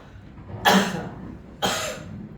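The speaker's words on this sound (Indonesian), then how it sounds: "Saya agak batuk." Two dry coughs sound close by, about a second apart, each a sharp burst that trails off into quiet.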